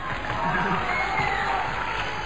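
Studio audience at a Chilean televised singing competition gala cheering and applauding, a loud continuous crowd roar with shouts and clapping blended together, voices mixed in.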